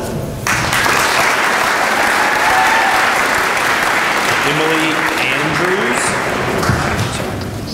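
Loud, sustained applause from an audience at a high school awards day for students, starting abruptly and continuing evenly, with voices faintly audible beneath the clapping.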